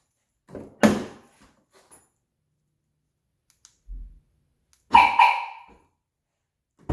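Two short electronic chirps from a Compustar CS697A car alarm locking the doors a few seconds apart, with a faint click and thump between them, in a quiet setting.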